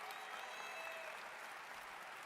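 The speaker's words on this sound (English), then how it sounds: "I want you to give a great round of applause for your coaches right now" A crowd at a Michigan athletics spring commencement applauds the coaches, steady distant clapping from a large audience that stays even and fairly faint throughout.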